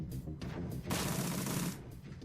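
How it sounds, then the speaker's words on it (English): Full-auto gunfire in the game Shadowrun: Dragonfall: a few scattered shots, then a dense, loud sustained burst of rapid fire lasting close to a second, followed by quieter trailing shots. "Let's do a full auto fire on you."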